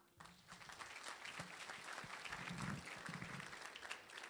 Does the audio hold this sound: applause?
yes